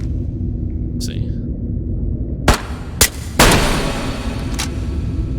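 Bolt-action rifle shots in the Ghost of Tabor video game: four sharp cracks with spaced, irregular timing, each followed by a rumbling tail, over a low ambient hum.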